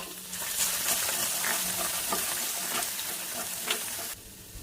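Crushed garlic hits hot oil left over from frying chicken wings, giving a loud, dense hiss that fills the clip, with light stirring scrapes, then drops off sharply near the end.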